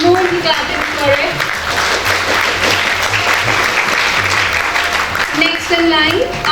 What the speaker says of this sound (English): I think she needs more clapping for it